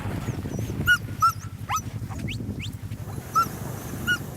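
Young sled dogs whimper and yip in high, wavering cries with a few short barks, scattered across steady outdoor background noise at moderate distance.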